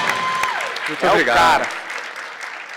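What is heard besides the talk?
audience applause for Flávio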